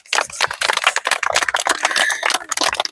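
Group of children applauding themselves during a rehearsal of the African Union anthem for a festival, a dense, continuous clatter of many small hands clapping at close range, steady and bright throughout.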